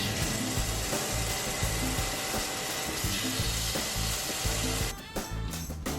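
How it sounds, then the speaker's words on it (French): Chicken pieces fry in melted butter in a pan. A dense, steady sizzle fills the whole stretch, with low clatter beneath it, and it thins out briefly near the end. "Une fois que mon beurre est bien fondu, je vais venir y déposer mes morceaux de poulet."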